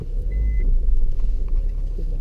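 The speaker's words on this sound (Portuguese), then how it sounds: "Então o carro é a diesel, é barulho de caminhão" A diesel car's engine rumbles steadily and loudly from inside the cabin, with a low, truck-like drone while driving on roads in France's Loire Valley, and a brief electronic beep is heard early on.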